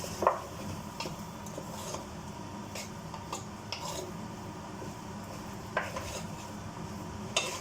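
Beef being stirred with a wooden spoon in a pot, quiet scraping and knocking with a few sharper clacks against the pot, over a faint sizzle, no talking.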